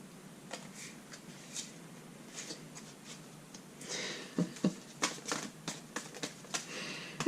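Tarot cards are shuffled by hand, starting as soft, sparse riffles and growing into a series of sharper, louder snaps and flutters toward the end, close and alone without talk.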